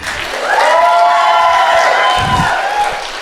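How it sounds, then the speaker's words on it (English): A stand-up comedy audience claps loudly and steadily while a few voices whoop and cheer throughout. "All right, now clap it up for me."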